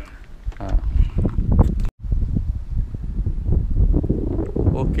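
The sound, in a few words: wind blowing outdoors during kite flying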